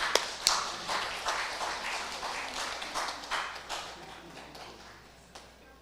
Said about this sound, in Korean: 큰 소리로, 큰 박수로 맞이하겠습니다.